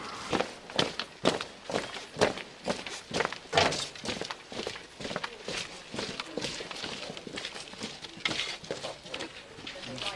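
A group rehearses marching, and their footsteps land in a dense, fairly steady rhythm of stomps throughout, close by and moderately loud, with faint voices mixed in.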